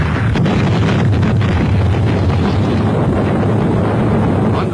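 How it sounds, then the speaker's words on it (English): Explosion at the Bombay docks in wartime archival film, a loud, dense roar of blast noise and rumble filling the whole stretch without speech. "20 minutes later, another explosion."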